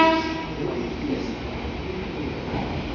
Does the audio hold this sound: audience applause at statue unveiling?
no